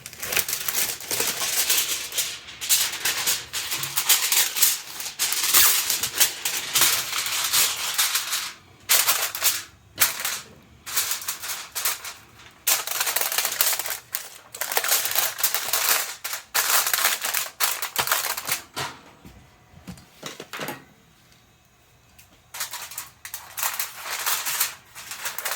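Aluminium foil is crinkled and pressed onto the bottom rack of a Ninja Foodi, making loud, continuous crackling and rustling close up, with brief pauses and no talk.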